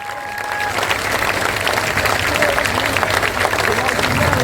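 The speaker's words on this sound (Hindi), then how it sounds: "जोर से ताली बजाइए।" Sustained, loud applause from a crowd at a political rally in India, steady throughout with dense clapping texture and some background voices.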